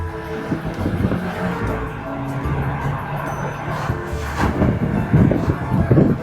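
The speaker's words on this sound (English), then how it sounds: "we're going to take it for a test drive, make sure it is working the full boost" A Subaru car on a test drive at full boost after a misfire fault, its engine roaring steadily and loudly close by, swelling and growling harder toward the end with some tire noise.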